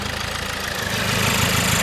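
A 2007 Toyota Avensis D4D diesel engine with a clogged EGR valve idles with a rough, rhythmic knocking clatter that grows slightly louder and steadier partway through.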